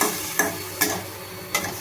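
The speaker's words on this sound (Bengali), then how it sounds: "এবার আমি একটু ভালো করে নাড়িয়ে নেব" A spoon stirs soybean chunks and potato in a pan for vegetable biryani, three distinct scraping strokes over a soft background sizzle.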